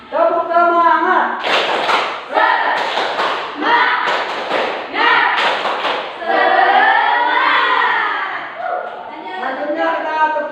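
A classroom of students performs a rhythmic clapping chant led by a teacher, with sharp bursts of group claps in quick patterns early on, mixed with loud, close chanting voices that carry on after the clapping stops.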